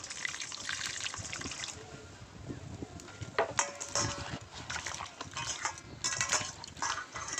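A ripe palm fruit is washed in water, with continuous splashing, trickling and sloshing close up as hands rub it, rising and falling in uneven bursts.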